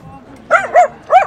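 Dogs at a dog market in Tokyo give three short, close barks with yips at an even pace, over a low, busy background.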